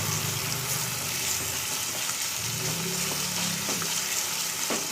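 Tomatoes sautéing with onions in a pan for drumstick poricha kuzhambu, a steady soft sizzle and hiss with faint scraping, no voices.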